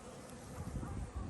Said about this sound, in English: She's surrounded by bees right now